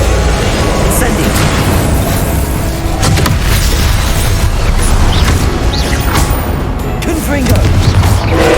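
The Incendio fire spell from Hogwarts Legacy comes through as a dense, loud roar of fiery booms and crackling blasts. It carries on without a break, with crashes piling up in a chaotic game battle.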